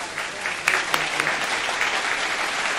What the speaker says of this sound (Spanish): fuerte ese aplauso